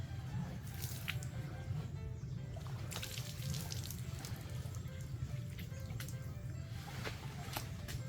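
Water scooped and poured with a pail, faint irregular splashes and drips over a steady low trickling background.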